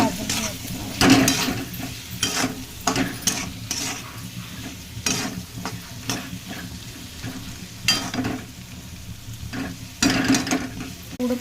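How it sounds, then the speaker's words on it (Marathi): Turmeric, salt, homemade masala, garam masala and coriander powder sizzle and roast in a pan while a spoon scrapes and stirs in repeated strokes, close and fairly loud throughout. "हलवून घ्यायचं. मसाला भाजून घ्यायचा."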